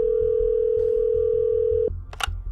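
A steady telephone dial tone hums loudly for nearly two seconds, then cuts off, followed by quieter handset clicks and a brief electronic chirp before a phone call.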